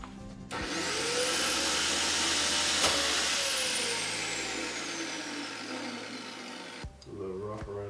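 A power tool cuts through a golf club shaft with a steady high-pitched whine for several seconds. The pitch slowly falls as it bites in, then it cuts off abruptly and a brief rattle follows.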